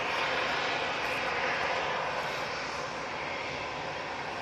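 A Ryanair Boeing 737 roars steadily through its takeoff run, with a dense, broad jet rumble that stays loud for the whole stretch.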